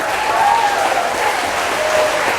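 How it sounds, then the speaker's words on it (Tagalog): Congregation applause at a Saturday church group gathering in Hong Kong, a close, steady wash of clapping sustained throughout. "Hala tayo sa palakpak."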